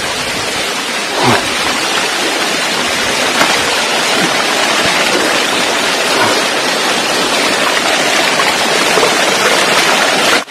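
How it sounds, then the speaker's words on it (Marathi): A small forest stream near a hill fort flows in a loud, continuous broadband rush of water, close by and alone. "छोटासा ओढा आहे."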